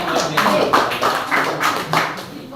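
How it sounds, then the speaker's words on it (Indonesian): Students in a classroom applaud a presenting group with quick, rhythmic bursts of clapping that pulse several times over a couple of seconds, close and fairly loud. "Tepuk tangan untuk kelompok 1 ya."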